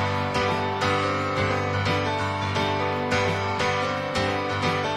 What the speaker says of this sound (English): Here's the piano by itself.